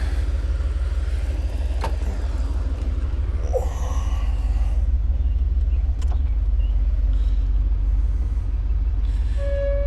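A 1987 IROC car's engine rumbles steadily and loudly while driving, the tone rising and dropping through quick upshifts, with a brief higher whine near the end.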